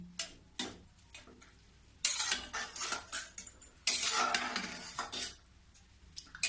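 A spoon stirring mixed dalia porridge with sautéed vegetables in a cooking pot gives irregular scrapes, knocks and clinks in short bursts, close by and without speech.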